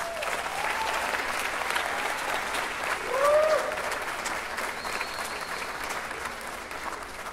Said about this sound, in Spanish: Por favor, aplauso para los músicos.